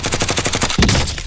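Rapid automatic gunfire in the Warzone game rattles loud and close as a steady stream of shots, then a heavier boom cuts in near the end.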